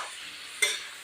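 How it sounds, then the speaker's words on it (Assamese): Meat stirred in hot oil sizzles softly, with one sharper scrape and burst of frying as the pieces are turned partway through. "মাংস দিলোঁ তেলত দি মাংসটো ধুনীয়াকৈ লৰাই দিয়া"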